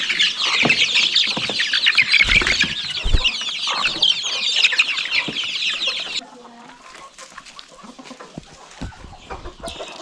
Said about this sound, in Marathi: एक कोंबडी इथे आणि इथे एक कोंबडी ठेवली आहे.